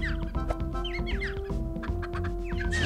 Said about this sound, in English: Oh my god, I just want to get that chicken!